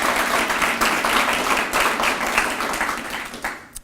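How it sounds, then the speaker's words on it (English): A high school audience applauding at a school announcement, a dense burst of clapping that holds steady and then thins out as it fades. "Give yourself applause."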